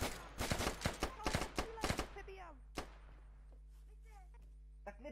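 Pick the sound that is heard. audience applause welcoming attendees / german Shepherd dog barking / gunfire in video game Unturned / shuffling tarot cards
gunfire in video game Unturned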